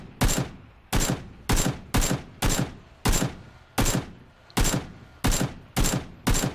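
Enemy gunfire in PUBG rings out as a steady series of about a dozen loud, sharp shots, evenly spaced roughly half a second apart, each with a short decaying tail, with no talk over them.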